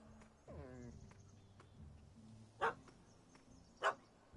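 A puppy barks in The Witcher 3: Hearts of Stone, giving two sharp, fairly loud yaps about a second apart over a low ambient bed with faint background sounds.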